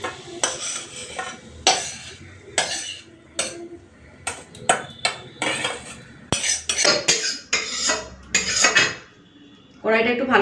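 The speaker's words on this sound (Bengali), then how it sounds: "কড়াইটা একটু ভালো করে ধুয়ে নিই।" A wok (kadai) is washed, with pots, pans and utensils clattering and clanking in sharp, irregular bursts up close, separated by short pauses.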